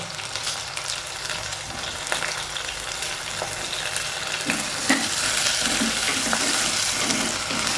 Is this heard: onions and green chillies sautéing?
yes